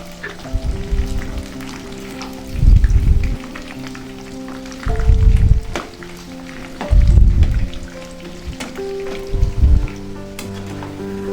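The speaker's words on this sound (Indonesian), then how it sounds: "goreng tempe yang sudah dibaluri dengan tepung sajiku. Goreng dengan api sedang aja agar tidak mudah gosong." Flour-coated tempeh frying in hot oil over medium heat: a steady close crackling sizzle, with four louder bursts of bubbling spaced a couple of seconds apart as pieces are moved or turned.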